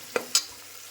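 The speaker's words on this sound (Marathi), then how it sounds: "त्याला गोल्डन ब्राऊन होईपर्यंत आपल्याला ना शॅलो फ्राय करून घ्यायचं आहे." Turmeric-coated chicken pieces shallow frying in a pan until golden brown, a low steady sizzle with two sharp stirring scrapes near the start, close by.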